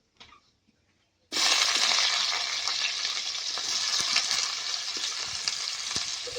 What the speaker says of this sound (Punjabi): ਇਹਨਾਂ ਨੂੰ ਭੁੰਨ ਲੈਂਦੇ ਆ ਪਿਆਜ਼ ਵੀ ਆਪਾਂ ਭੁੰਨ ਲੈਨੇ 2 ਮਿੰਟ